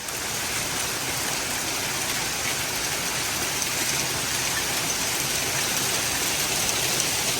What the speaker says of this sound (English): a cloud burst and a huge hailstorm